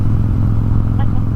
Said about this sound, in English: I'm on a motorcycle right now.